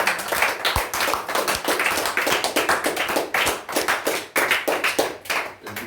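Church congregation applauding and clapping together in praise during a service, a dense steady patter of many hands with rhythmic accents, close and lively, lasting several seconds.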